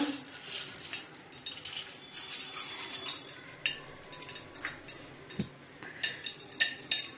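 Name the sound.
roasting edible gum (dink) in ghee in a pan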